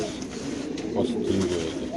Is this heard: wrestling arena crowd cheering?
no